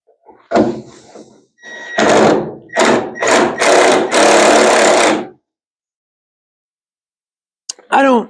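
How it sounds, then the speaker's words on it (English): A power driver sinks a small self-tapping screw into a rusty car body panel in a handful of loud close bursts of whirring and grinding, then goes quiet before a brief clatter at the end. "Just put a little self-tapper in it"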